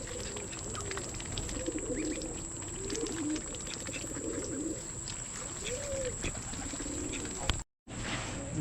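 Pigeons in a farm coop coo repeatedly in low, rolling phrases, fairly close, over a steady background hiss, with a brief cut near the end.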